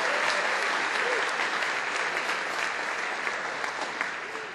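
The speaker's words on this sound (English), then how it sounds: "Can everybody just give a real serious round of applause for the" Sustained applause from an audience at a New York tech demo day event, a dense steady wash of many hands clapping that holds at full strength throughout and tapers only slightly toward the end.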